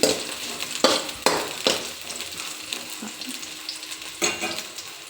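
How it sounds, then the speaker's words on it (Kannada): Onion frying in hot oil, a steady close sizzle broken by several sharp clatters and scrapes of a spoon stirring against the pan. "ಆನಿಯನ್ ಸ್ವಲ್ಪ ಫ್ರೈ ಆಗಲಿ."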